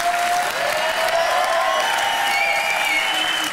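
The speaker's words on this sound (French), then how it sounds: "On applaudit encore très fort" Sustained studio audience applause on a French late-night television show, a dense, steady wash of clapping with a few whistles and cheers, loud and close throughout with no talking.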